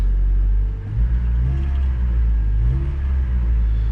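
A 1997 Toyota Tacoma engine running after timing chain work, a loud, close, low idling rumble with a couple of gentle swells in revs.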